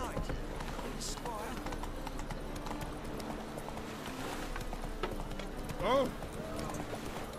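Roach the horse galloping in The Witcher 3, with rhythmic hoof clip-clops running steadily throughout, a brief whinny near the end, and a man's exclamation over the top.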